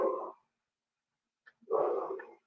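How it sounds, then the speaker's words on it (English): A dog barks indoors in two short bursts, the second longer and louder, with silence in between. "My dog has found something to bark at."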